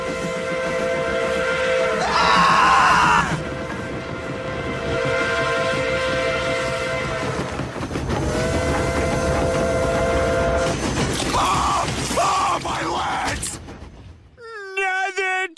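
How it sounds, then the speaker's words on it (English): A train roars past with loud, drawn-out whistle blasts repeating over the rumble, ending abruptly; voices chime in briefly. "Train!"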